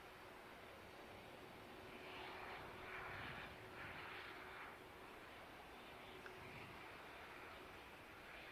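Aircraft move around the taxiways and stands at Manchester Airport, producing a steady distant engine roar with a whining hum that swells slightly midway and then settles, heard alone without talk.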